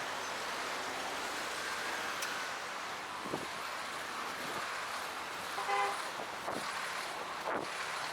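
On a street in San Salvador, a car passes at moderate distance amid faint traffic noise, with a short horn toot near the middle.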